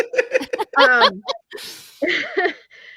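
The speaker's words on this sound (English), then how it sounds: "hang on, I'm gonna sneeze" A sharp sneeze bursts out amid brief vocal sounds and a breathy exhale, close and fairly loud, all over in a few seconds.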